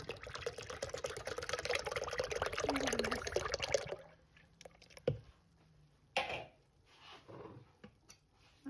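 2% milk pours into a bowl of rice for horchata tres leches, a steady close liquid stream for about four seconds, followed by quieter drips, small splashes and light handling noises.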